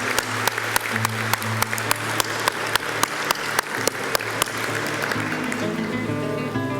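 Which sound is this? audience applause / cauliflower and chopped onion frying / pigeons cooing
audience applause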